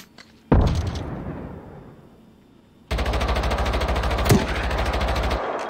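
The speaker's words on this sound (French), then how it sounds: "est-ce que tu entends une explosion?" In the video game Generation Zero, a sharp explosion booms and decays, then rapid sustained automatic gunfire rattles loudly for several seconds with one extra loud blast mid-burst.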